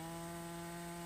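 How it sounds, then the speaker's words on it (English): A Chinese 45 cc chainsaw cutting a tree on a hillside, a steady droning whine held evenly at constant revs, nearby and moderately loud. "This is the Chinese chainsaw."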